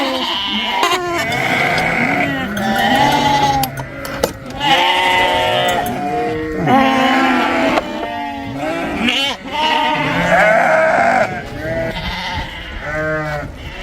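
Lambs bleat over and over at close range, several voices overlapping loudly in a farm pen.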